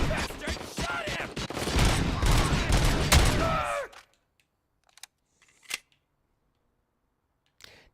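Gunfire rattles in RoboCop: Rogue City on Series X, rapid overlapping shots for about four seconds that stop abruptly, followed by quiet broken by a few isolated clicks and thuds.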